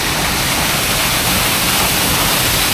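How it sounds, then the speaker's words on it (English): A loud waterfall in a Japanese forest, a dense, unbroken roar of falling water heard up close and alone, with no voices. "this is the waterfall that we've been hiking out to"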